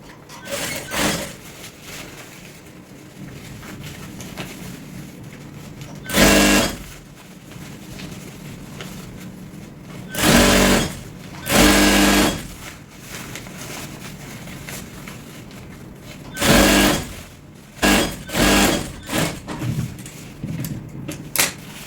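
A sewing machine stitches the waistband of Ankara palazzo pants in several short, separate bursts, with quieter fabric handling and shuffling between the runs.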